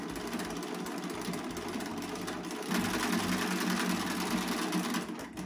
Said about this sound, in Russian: У меня декоративная строчка и тройной стежок.